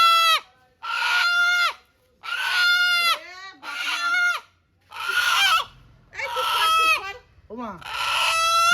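Native desi chickens make loud, close calls in a series of about seven separate drawn-out bursts divided by short silences, with a faint low rumble in the background.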